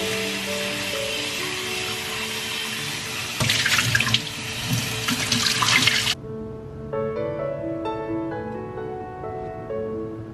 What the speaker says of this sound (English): you can wash it off with water now